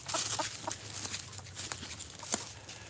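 Chickens and a small rooster on a homestead, clucking in short scattered calls over a low steady hum from the coop.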